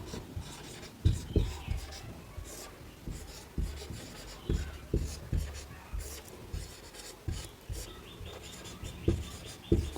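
Pen or chalk writing out a definition during a Hindi grammar lesson, heard as a series of short scratchy strokes in irregular bursts, fairly close and moderately quiet, with no talking.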